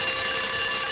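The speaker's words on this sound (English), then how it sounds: "An alarm clock? That's a great idea." A toy alarm clock rings loudly and continuously up close, a steady electronic buzzing tone with no voices.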